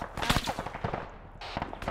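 Close, rapid gunfire in Arma 3: a quick rattling string of shots followed by a short pause and another burst, loud and sharp.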